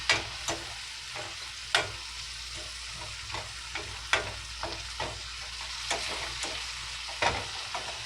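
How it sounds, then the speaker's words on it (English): Onions seasoned with steak seasoning sizzle steadily in a pan, with sharp utensil scrapes and knocks coming every second or so as they are stirred, close and continuous, no voices. "Move those onions around."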